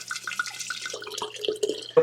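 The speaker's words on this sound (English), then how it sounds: "we're just basically going to pour that in" Dry red Chilean wine being poured into a sangria pitcher, a close, continuous liquid trickle with small splashes and glugs that ends in a brief louder splash.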